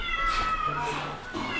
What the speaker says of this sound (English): my cat's already missing me